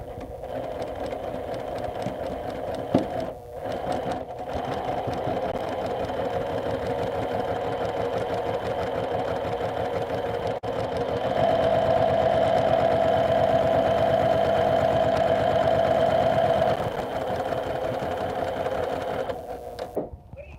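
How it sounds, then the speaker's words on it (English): A sewing machine runs continuously with a steady mechanical whir and rapid rhythmic clatter, close by, briefly pausing early before humming on. "hear your sewing machine with that mic"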